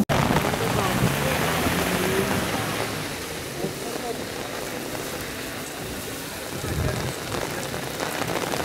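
Heavy rain pours steadily outdoors during a night vigil in Çankırı, a dense, loud hiss of drops pattering on surfaces throughout, with a faint rumble now and then.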